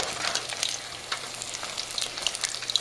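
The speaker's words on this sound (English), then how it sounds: "I'm gonna cook these again in the hot oil." Battered sweet and sour pork pieces frying in hot oil, a steady close crackling sizzle with scattered bright pops throughout.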